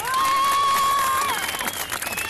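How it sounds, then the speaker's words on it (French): Crowd at the sixth Salon de la Moto motorcycle show in Valence applauding and cheering loudly for a stage show, steady dense clapping throughout with a whistle-like tone riding over it early on. "Applaudissements."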